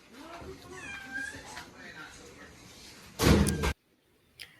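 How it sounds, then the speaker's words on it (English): A cat meows several times in a home, its rising and falling cries fairly close, then a loud burst of household noise and a brief knock near the end, with no talk. "That cat meow like that is nerve wracking."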